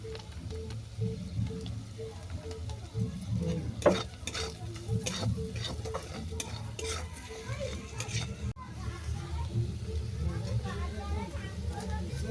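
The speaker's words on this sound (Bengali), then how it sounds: "গাজরটা হালকা করে ভাজা হয়ে গেলে" Carrots for oats kebabs fry in a pan with salt, sugar and garam masala, a steady close sizzle under frequent spatula scraping and clatter against the pan, with a faint voice in the background.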